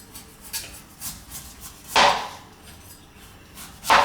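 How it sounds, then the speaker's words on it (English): A knife peeling the tough skin off taro in a kitchen: a string of short scraping strokes, with two louder, sharper scrapes standing out near the middle and end, close and crisp. "It's hard to use a peeler to peel this taro, so you just use your knife"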